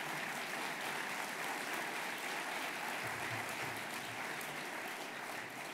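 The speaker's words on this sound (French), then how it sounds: "merci pour ces applaudissements" Sustained audience applause fills a hall during a public conversation event at the Académie française setting, steady dense clapping throughout with a slight thinning toward the end, no voices over it.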